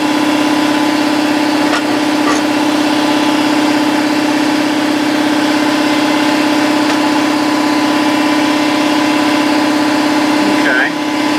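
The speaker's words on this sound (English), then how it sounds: "Compressor in the background." An air compressor runs steadily in the background with a constant mechanical hum and drone that holds evenly throughout, with a few faint knocks and clicks over it.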